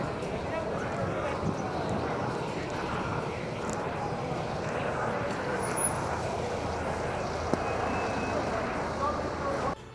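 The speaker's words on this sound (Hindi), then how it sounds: "किस तरह से ये हेलीकॉप्टर हवा में ही मंडराता रहा" A helicopter hovers overhead ahead of an emergency landing, its engine and rotor making a steady, loud droning rumble throughout, with talk running underneath.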